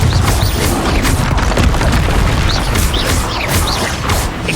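Repeated fiery magical blasts from the Confringo spell in Hogwarts Legacy, a loud continuous barrage of booming bursts and crackling impacts with no pauses across the whole stretch.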